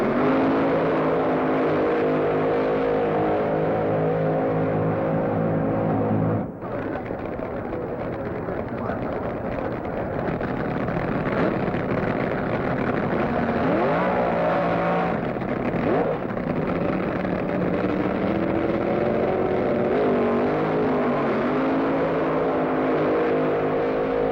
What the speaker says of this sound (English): Nitro-burning, Hemi-powered funny cars.